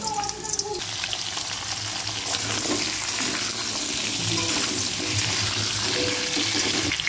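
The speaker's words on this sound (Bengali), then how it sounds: "আলুগুলো দিয়ে দেবো ভাজার জন্য" Potatoes fry in hot oil in a wok, giving a loud, continuous close-up sizzle with steady crackling that never lets up.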